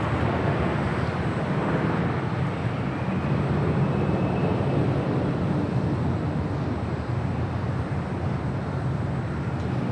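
A Philippine Airlines Boeing 777-300ER departing runway 25 right at LAX sends a steady, loud, broad jet roar across the airfield, holding a continuous rumble from start to finish with no pauses.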